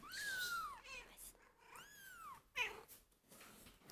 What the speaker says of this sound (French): il suffit qu'elle entende miauler un tout petit peu que ça y est